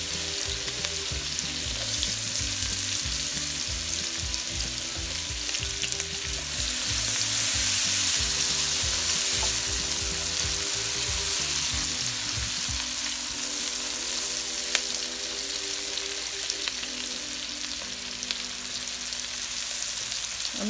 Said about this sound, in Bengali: আমি ওই তেলের মধ্যে পেঁয়াজগুলো দিয়ে দিচ্ছি।